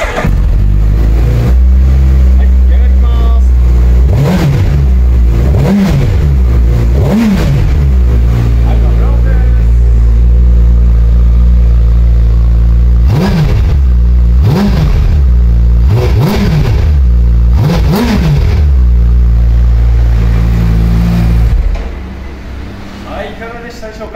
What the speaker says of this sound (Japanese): それではですね、エンジン始動いきたいと思います。